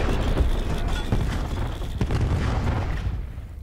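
A cluster grenade from a Call of Duty game detonating in a dense, rumbling spread of overlapping blasts that rolls on for several seconds at fairly high volume, with scattered sharper bursts inside the roar.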